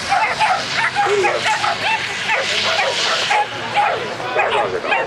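Whippets bark and yip excitedly at a dog race in Helsinki, a dense run of overlapping yelps and whimpers filling the scene, with a race announcer talking over them.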